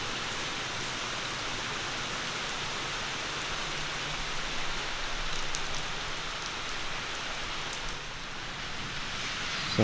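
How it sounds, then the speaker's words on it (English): Steady rain falls outdoors during an oil change on a 1996-2000 Honda Civic, a constant hiss of drops hitting surfaces with no pauses and no voices. "It's not raining too bad."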